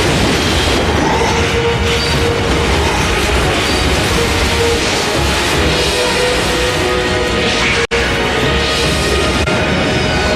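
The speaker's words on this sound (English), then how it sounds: "The Great Toba explosion, the most destructive event in the last 2 million years" The Toba supervolcano erupting in a massive volcanic explosion: a continuous, loud, roaring rumble that fills everything, with a brief momentary dropout near the end.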